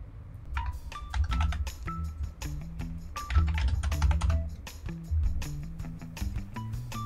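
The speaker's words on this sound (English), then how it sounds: "I have to actually type it out" Keys clatter on a computer keyboard as a report is typed out while playing a Roblox police game, a fast, close, uneven run of crisp clicks with brief pauses and no talking.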